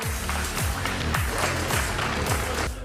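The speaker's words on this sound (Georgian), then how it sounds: "აპლოდისმენტებით დავემშვიდობოთ გთხოვთ" A crowd claps at a boxing ring event in a steady, dense patter that stays loud and continuous throughout, with no voices standing out.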